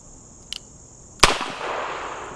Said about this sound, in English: let's try some double action on the 357